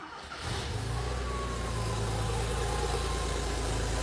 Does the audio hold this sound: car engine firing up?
yes